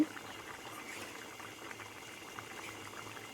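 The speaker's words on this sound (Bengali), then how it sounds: "এর ঝোলটা ফুটে উঠেছে।" Moong dal broth with a fish head bubbles at a low simmer, a soft, steady burble with no talking.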